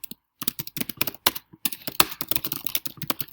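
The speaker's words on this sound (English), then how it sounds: "Very aggressive typing." Fast, forceful typing on a keyboard, a dense stream of clicks and clacks after a brief pause, close and fairly loud.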